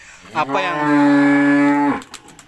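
A pregnant cow lets out a single long, loud, close moo with a strong tonal low drone lasting over a second, followed by faint background noise.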